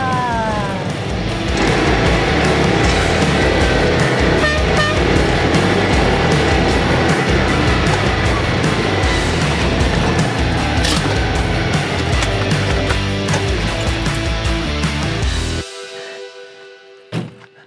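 A 1977 Citroën 2CV4 drives along and arrives, its loud, continuous engine and road noise broken by a few bumps and thumps, then cutting off abruptly near the end with one last knock.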